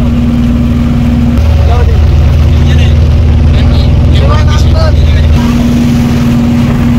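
A trawler's engine drones steadily on a river crossing to Urir Char island in Noakhali, loud and continuous, with a low hum shifting partway through as voices talk over it.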